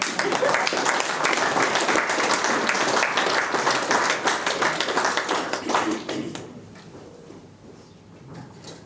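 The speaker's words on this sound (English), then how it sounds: "Cue the applause." An audience at a Knights of the Southern Cross talk-and-beer evening with a priest speaker breaks into full, steady applause for about six seconds before it fades into a quiet room.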